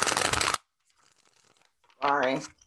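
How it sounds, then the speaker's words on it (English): A short burst of card shuffling opens, followed by quiet faint rustling, then a person begins speaking near the end. "y'all are going to have to hear me shuffle really loud"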